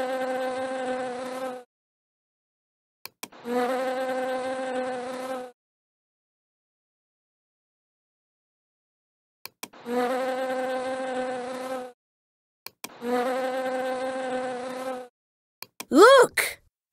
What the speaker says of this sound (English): Look, a bee.